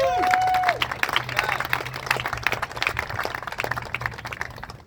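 Crowd at an outdoor political rally at the Capitol in Boise, applauding and cheering: steady clapping with scattered whoops and shouts, moderately near and sustained for several seconds, with a whistle near the start.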